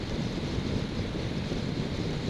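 Steady broadband wind buffeting through open windows of a moving vehicle, a continuous close roar with low rumble and no speech, constant in loudness throughout.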